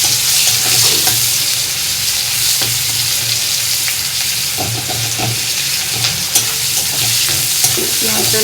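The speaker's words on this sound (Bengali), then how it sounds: "পেঁয়াজটা লাল লাল করে ভেজে নেব।" Onions sizzle loudly in a hot pan close by, with repeated scraping and clinking as a spatula stirs them in a steady rhythm.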